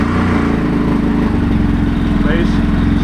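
Motorcycle fitted with a lithium battery starting up and running, a loud steady engine rumble with a throbbing low beat close by, a brief higher whine near the end.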